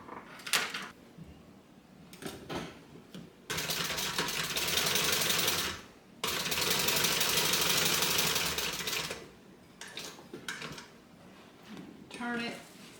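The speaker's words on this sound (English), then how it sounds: "we're going to stitch around the outside of this rectangle" A sewing machine stitches around a fabric rectangle for a bag in two long, loud, steady runs of rapid mechanical whirring, with short pauses and speech between them.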